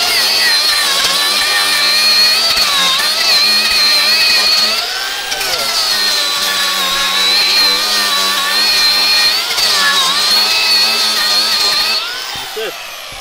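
A Milwaukee cordless drill spins a cone wire brush against a metal roof to strip rust, giving a loud, steady high-pitched whine with slight pitch dips under load, close up, fading out at the end.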